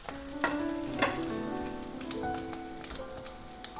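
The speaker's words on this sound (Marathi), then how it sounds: "हा राहिलेला मसाला जो आहे ना, तो आपण याच्यात परतून घ्यायचा आहे" Leftover spice masala sautéing in hot oil with capsicum over low heat, giving a steady close sizzle and crackle with light clinks of stirring.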